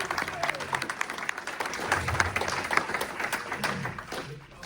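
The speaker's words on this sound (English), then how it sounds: "So give yourselves a big round of applause." Convention audience at a Space: 1999 and Star Trek crossover panel in Los Angeles giving a round of applause, steady dense clapping from a large crowd with faint voices mixed in, tapering slightly at the end.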